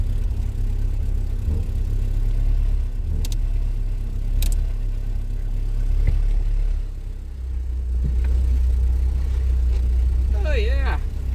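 A 1990 Volkswagen Golf GL engine runs at a steady high idle, a close, continuous low hum, with faint clicks and a brief squeak of a turning steering wheel near the end.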